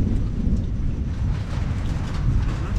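Loud, dense rain roars up close with a deep rumbling undertone like thunder, continuous and heavy throughout.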